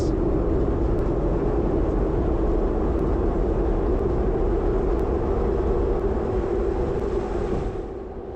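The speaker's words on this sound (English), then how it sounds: "As you can hear, we got the train behind us." A train rumbles past behind a Philadelphia Fishtown street on a snowy day, a loud continuous roar that holds steady and then eases slightly at the end.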